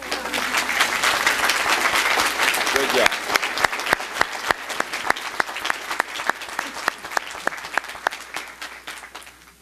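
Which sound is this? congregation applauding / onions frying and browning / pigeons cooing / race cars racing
congregation applauding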